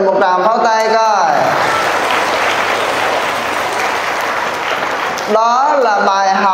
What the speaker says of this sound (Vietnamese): Rồi tự thưởng cho mình một tràng pháo tay coi.